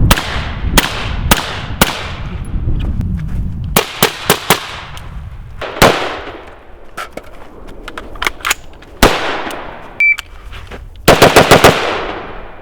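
Sharp, loud gunshots from an MK18 Mod 1 short-barreled rifle fired at close range, in single shots, quick pairs and rapid bursts, each crack trailing a short echo.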